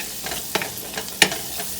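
Green peas and egg stir fry being mixed in a pan, giving a low sizzle under a few quick scraping stirs, with one sharper clatter in the middle of a short burst.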